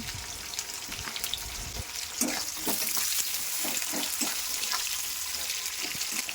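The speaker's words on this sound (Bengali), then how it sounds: "পেঁয়াজটাকে ভালো করে আমি প্রথমে ভেজে নেব।" Chopped garlic and onion fry in hot oil for chow mein, a constant crackling sizzle at close range with a run of soft rhythmic stirring scrapes in the second half.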